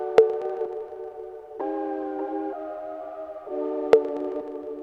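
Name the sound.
cowbell with heavy reverb and delay, FL Studio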